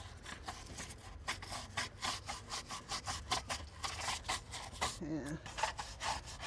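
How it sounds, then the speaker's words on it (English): Scrubbing a garden fountain makes a rhythmic, fast scratching and rubbing, steady strokes repeating close by, with one brief spoken word partway through. "Let's see if a little scrubbing helps."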